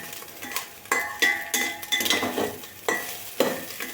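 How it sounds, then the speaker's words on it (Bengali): Fried rice with about a tablespoon of sugar being stirred in a pan for prawn pulao, with a spatula scraping and clinking against the metal in repeated strokes over a soft sizzle, close and clear with no talk. "আর একটুখানি নাড়াচাড়া করে মিশিয়ে নেব"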